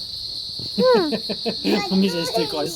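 A live cicada held in the hand gives off a steady, close, high buzz that continues throughout, while people talk over it.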